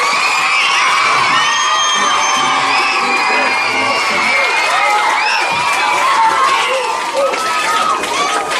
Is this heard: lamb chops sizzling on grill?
no